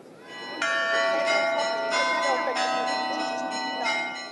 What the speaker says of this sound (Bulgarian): Камбаните на катедралния храм Света Богородица възвестили преди 139 години съединението и днес събраха пловдивчани.